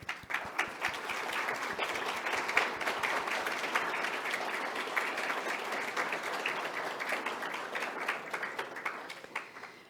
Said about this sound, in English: Would the donors please stand so that we can acknowledge with a warm round of applause their dedication and generosity.